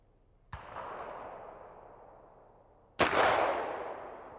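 Two black powder rifle shots at an 1840s fur trade reenactment outdoors by a river, each a sharp crack trailed by a long, fading echo rolling across open country, spaced about two and a half seconds apart.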